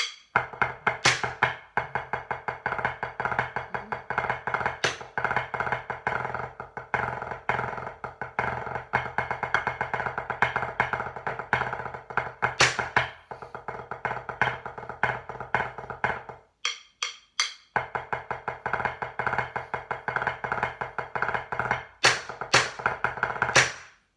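A drum break played from the top: a dense, fast, continuous stream of snare rolls and accents with cymbal crashes, a short sudden break near the end, then the pattern resumes, loud and unbroken by talk.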